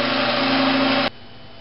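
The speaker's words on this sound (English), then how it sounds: "You want to get a drill bit that's slightly smaller than your nail" An electric drill bores into a motor's end cap with a loud, steady high whine close by, then stops abruptly and leaves only a quiet hum.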